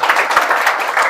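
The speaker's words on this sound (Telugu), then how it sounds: "గట్టిగా చప్పట్లు కొట్టి అభినందించాలి" Short burst of applause from a crowd at a local tool-kit distribution event, loud and dense clapping lasting about a second.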